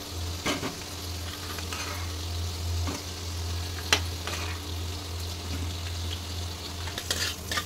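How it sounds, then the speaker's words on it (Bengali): Potatoes frying in oil in a home kitchen pan, a steady sizzle running throughout with occasional stirring scrapes and clinks, moderately close, no one speaking. "আলুটা ভাজা হয়ে গেছে, আলুটা আমি এবার তুলে নেব।"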